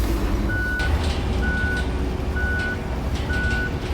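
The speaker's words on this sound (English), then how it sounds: "But you have to listen to a beep." Truck reversing alarm in the Roadcraft video game, four evenly spaced beeps at a slow steady rhythm over a loud continuous engine rumble, with occasional brief air hisses.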